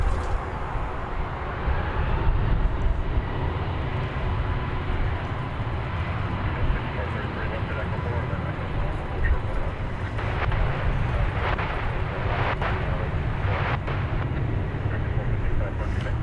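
An American Airlines Boeing 777-200 bound for Tokyo Narita takes off from DFW airport, producing a continuous deep roar that stays loud and even throughout, with a voice faintly audible over it.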